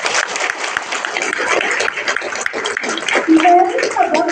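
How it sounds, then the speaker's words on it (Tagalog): Loud applause and cheering from a company crowd at a branch gathering in Guiguinto, dense and sustained throughout, with voices shouting over it. "At ang palakpak na gusto kong malakas"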